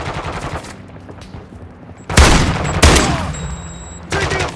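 Rapid gunfire from Call of Duty: Modern Warfare II, heard as loud, close bursts of automatic shots in three separate volleys, with quieter battle noise between them.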